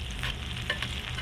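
Tomatoes sizzle and fry in a hot pan while being stirred, a dense, continuous crackle with soft scraping strokes close by and no talk.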